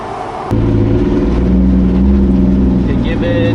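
A 2JZ-powered Nissan 240SX drift car engine starts up and revs, a loud steady roar building and holding with a rising whine near the end; a voice talks faintly over it.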